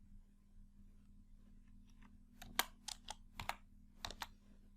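Typing a formula on a computer keyboard, a short burst of a dozen or so crisp key clicks in uneven rhythm, close and fairly quiet over a low hum.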